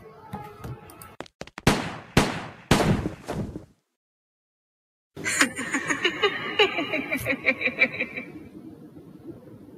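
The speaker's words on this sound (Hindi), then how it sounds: "नूर गन को नीचे करो मैं कह रहा हूँ डोंट शूट" Gunshots ring out in an animated story: a quick run of loud, sharp bursts, a short silence, then busier clattering sounds.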